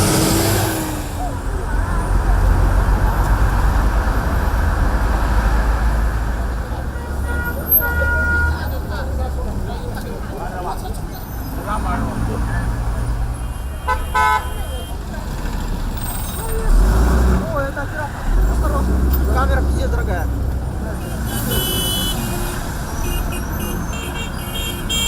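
Busy road traffic at a street crossing in Shenzhen, with trucks and buses rumbling past, hissing air brakes and occasional horn toots, a loud continuous street roar with people talking throughout.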